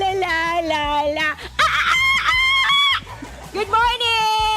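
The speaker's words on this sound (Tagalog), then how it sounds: "Good morning, chickens!" Chickens and ducks on a farm at a campground, loud, close nasal honking and clucking calls in bursts with brief pauses, a busy flock sound filling the whole stretch.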